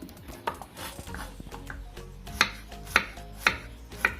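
A knife slicing shallots and garlic on a board before they are ground for a crab dish, several sharp cuts in an even rhythm, close and crisp over faint kitchen noise.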